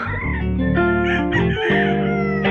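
A local Larry Romero Gray gamecock stag crows loudly and close, one long harmonic call with a brief break, filling the moment without talk.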